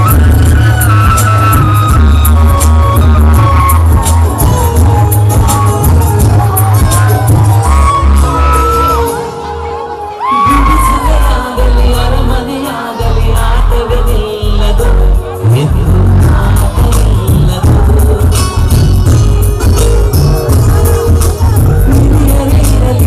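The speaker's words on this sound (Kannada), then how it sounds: "ಅಬ್ಬೂಸ್ ಒಂದು ಚಪ್ಪಾಳೆ ಕೊಡಿ ಜೋರಾಗಿ ಅಬ್ಬೂಸ್ಗೆ" A large crowd at a silver jubilee festival celebration in Mandya cheers, whoops and shouts loudly and continuously, with a brief dip partway through before the roar swells back up.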